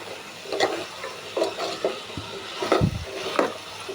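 Yardlong beans (borboti) frying in a pan while being stirred, with a soft sizzle under repeated scraping and knocking strokes of a spatula, close up, with no voice.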